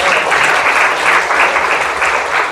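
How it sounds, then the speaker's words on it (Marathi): Steady, dense applause from an audience at a devotional gathering, filling the room continuously for a couple of seconds without letting up. "यासाठी परत एकदा टाळ्या."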